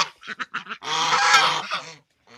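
Farm geese, two females just let in, honk loudly and close by in a quick series of short calls, then one long raucous outburst, trailing off into a faint final honk.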